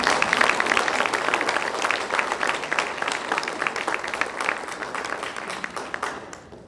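Sustained audience clapping at a lifetime achievement awards ceremony, a thick wash of many hands that stays loud before thinning and fading toward the end.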